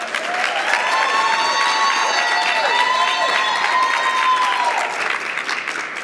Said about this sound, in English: You can clap for Atwater.